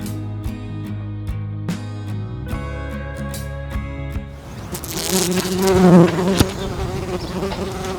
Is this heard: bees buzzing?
yes